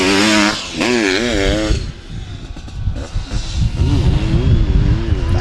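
Motocross sidecar motorcycles ridden by multiple Ukrainian champions roar past, loud engines revving and shifting pitch up and down, with a commentator talking over the racing noise.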